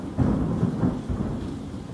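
Thunder rumbles through a thunderstorm with rain, a loud, continuous low roll that swells and fades over two seconds without any talking.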